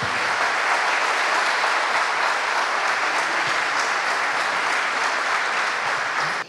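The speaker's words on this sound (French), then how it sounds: "Je voudrais tout d'abord saluer Patrick Karam, que vous connaissez, qu'on peut applaudir." Audience applauding for Patrick Karam at a gathering on Mideast Christians, a loud, sustained wall of clapping from a large crowd that holds steady until it cuts off at the end.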